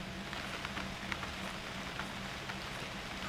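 Rain in the UnReal World video game keeps up a steady patter with soft scattered drop ticks, a constant moderate hiss and no voices.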